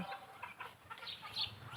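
Desi chickens clucking faintly at a backyard farm near a water line and fish pond, with soft, scattered clucks over a steady outdoor background.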